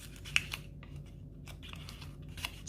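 Paper being folded into an origami iris, close crisp creasing and crinkling with a few sharp paper snaps against a low steady background hum.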